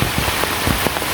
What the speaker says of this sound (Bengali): এখন ঝড়টা অনেক বেড়ে গেছে, ঝড়ের মাত্রাটা।